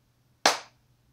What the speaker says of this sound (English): Let me clap my hands.